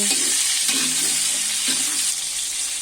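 Pointed gourd (potol) slices frying in hot oil with salt and turmeric, a steady close sizzle throughout with a few scraping stirs of the spatula in the pan.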